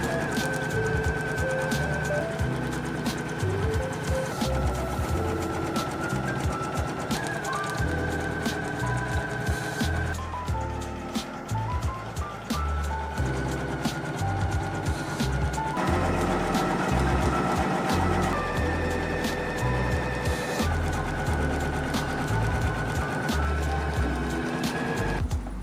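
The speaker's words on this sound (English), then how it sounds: "Let's start the embroidery." PooLin EOC06 embroidery machine stitching a design onto a towel, a loud continuous mechanical whir with rapid needle chatter and shifting motor tones as the stitching speed and direction change, running throughout with no talking.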